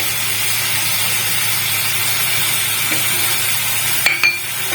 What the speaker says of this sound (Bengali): এই আলুগুলো একটু দিয়ে দেবো।